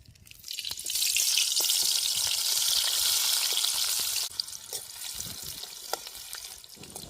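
Onion drops into hot oil at an outdoor riverside cooking spot and bursts into a loud, bright sizzle that holds steady for several seconds before easing into a quieter crackle with occasional pops.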